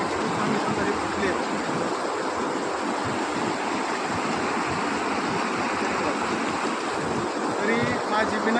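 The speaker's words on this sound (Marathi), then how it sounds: "बघा मंडळी, पाणी बघा, बघा किती पाणी बंधारे फुटले" Floodwater from burst check dams after a night of heavy rain in Shilegaon, Rahuri taluka, roars steadily and loudly across farmland, a continuous broad rush with wind buffeting the microphone.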